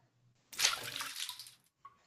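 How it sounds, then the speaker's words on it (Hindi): A cartoon axe splashing into river water: one close, bright splash that washes out for about a second, followed by a small drip, with no speech. "मेरी प्यारी कुल्हाड़ी पानी में गिर गई"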